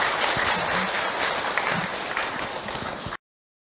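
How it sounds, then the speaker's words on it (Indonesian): An audience at a religious talk bursts into steady applause that holds for about three seconds, then cuts off abruptly into silence. "Tepuk tangan untuk beliau"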